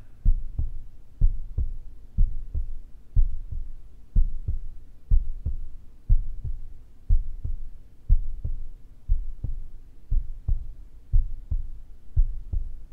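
Steady heartbeat pulse in a guided archetypal tarot meditation, a regular paired lub-dub throbbing about once per second, close and deep, alone with no voice over the full span.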